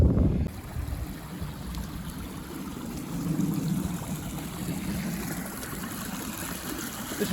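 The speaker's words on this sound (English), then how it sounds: "This is the water just running off one field." Floodwater runs off a flooded farm field after heavy rain, a steady rushing and gurgling flow close by that continues unbroken, with a brief louder burst at the very start and no talking.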